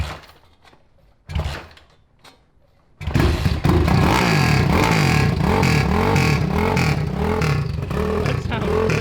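A 190cc Honda Trail 70 hot-rod minibike engine starts after a few quiet knocks and then revs loudly and steadily, close by, with its pitch rising and falling in repeated throttle blips.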